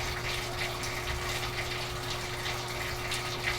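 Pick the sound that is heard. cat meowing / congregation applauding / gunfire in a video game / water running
water running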